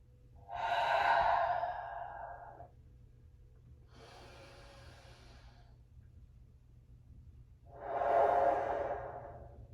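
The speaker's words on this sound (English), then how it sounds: "inhaling deeply through the nose and pushing it out, exhaling through the mouth" Slow, deep breaths heard up close in a quiet room: a loud airy exhale through the mouth, a softer nasal inhale, then another strong mouth exhale, with a faint steady hum underneath and no speech.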